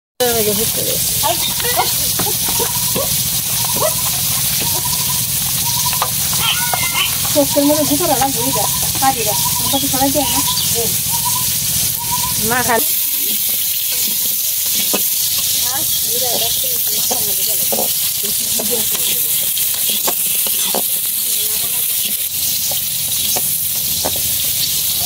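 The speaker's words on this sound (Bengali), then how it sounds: "আলু দিয়ে লাল করে ভাজা হয়ে গেছে" Potatoes frying in a pan until reddened for a pulao and meat dish, a constant close sizzle and hiss with stirring scrapes, under an ongoing voice for the first half, then alone.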